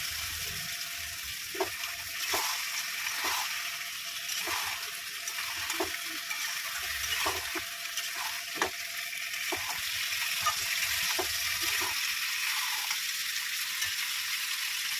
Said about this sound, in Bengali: এবার আমি কাঁকড়াগুলো দিয়ে কষিয়ে নেবো